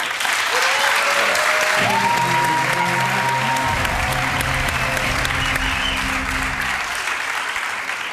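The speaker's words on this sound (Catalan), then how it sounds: "aplaudiment per ell." A studio audience on a Catalan TV game show applauds loudly and steadily for the full eight seconds, with sustained tonal music lines running beneath the dense clapping.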